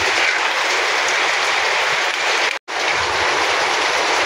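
Rain falling during the rainy season, a dense, steady hiss of drops that continues without a break apart from one abrupt instant of silence midway.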